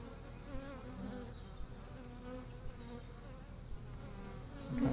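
Honey bees buzzing steadily around a hive, a dense layered hum with individual bees droning close by.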